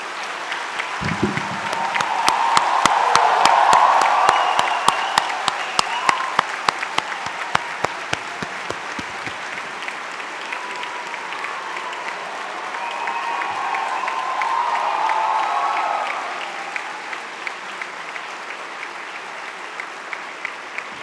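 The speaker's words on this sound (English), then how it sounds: "give a big round of applause to your parents." Graduates at a convocation applaud their parents, a sustained round of clapping from a large indoor crowd that swells and eases over about twenty seconds, with individual sharp claps standing out near the microphone.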